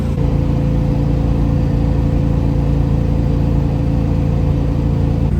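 A 1971 Dodge Demon 340 with a 4-speed runs at steady highway cruise, its V8 engine droning loud and close in a constant low hum with no gear changes or speech.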